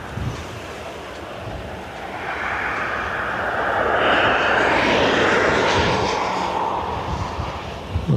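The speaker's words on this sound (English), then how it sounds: "This ATR coming in from Birmingham now." An ATR turboprop airliner arriving from Birmingham passes overhead with engine drone that swells to a loud, whining peak midway and then recedes, with wind buffeting the microphone.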